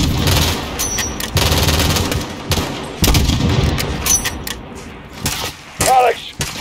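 Gunfire in the Call of Duty Modern Warfare 2019 campaign, loud sustained bursts of automatic fire with scattered booms and thuds, close and continuous, with shouted voices in between.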